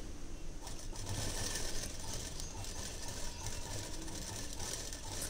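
A sewing machine stitches blouse fabric all the way round, a faint, steady run of rapid stitching close by with no voices over it.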